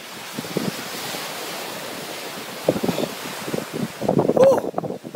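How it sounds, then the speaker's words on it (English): Strong gusty wind buffets the microphone at a seashore, with surf roaring in the background; the blasts rise and fall in uneven surges, growing loudest near the end. "Wind's blowing me"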